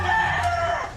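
Chickens on a small farm cluck and call close by in a brief, busy burst, a rooster's crow rising among the flock's overlapping voices.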